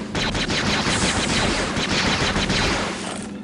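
Rapid bursts of gunfire in Star Wars Jedi Knight II: Jedi Outcast crackle nearly continuously, loud and close, like automatic weapons, tapering off at the end.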